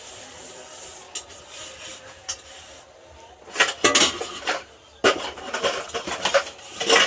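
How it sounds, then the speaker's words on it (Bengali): After a meal, a rice pot and other dishes are scrubbed by hand: rough rubbing and scouring strokes in uneven bursts, growing louder and busier midway, with clinks of metal pots, close by. "ভাতের হাঁড়িটা মেজে নিচ্ছে"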